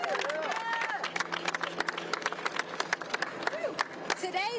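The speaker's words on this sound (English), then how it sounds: "Y'all, a great round of applause for Attorney Lanita Baker." Crowd applause follows a sentencing in the Brett Hankison case, with irregular claps and cheering from a gathered group. Voices and crowd babble mix with the clapping throughout, moderately loud and close.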